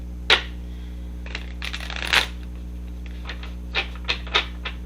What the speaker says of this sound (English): Not taking any cards until the deck is shuffled.